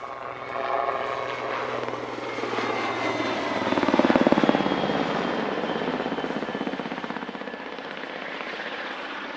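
A Rafale fighter jet performs at an air show, its engine roar building to a loud peak midway and then holding as a steady, broad drone, with no talk.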